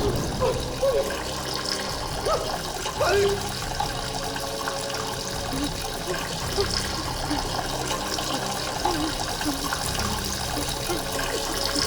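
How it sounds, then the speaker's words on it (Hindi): Water runs steadily from a tap with a trickling, splashing flow, fairly loud and continuous throughout, while a frightened voice cries out over it in a horror drama scene. "पानी बंद करो।"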